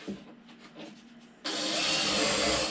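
A power drill pre-drills screw holes in wood, starting abruptly after a quieter stretch of light knocking and handling, then whirring loudly and steadily to the end.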